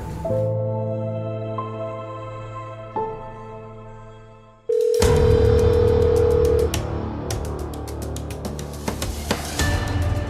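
A telephone call goes unanswered, with long steady ringback tones repeating at even intervals before the line changes to a louder, busier tone with rapid repeated beeps.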